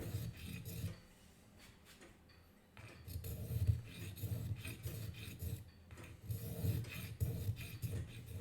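Rhythmic rasping strokes of sanding a jet-black wooden violin bow frog, soft scratchy rubbing in repeated bursts with brief pauses, quiet and close.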